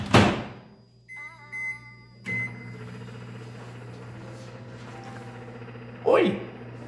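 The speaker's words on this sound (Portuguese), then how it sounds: "E vamos levar isso aqui pro micro-ondas." Old, worn microwave oven cooking eggs: a steady low electrical hum runs under a few beeps and a door or latch clack, with handling noises at start and end; no one speaks.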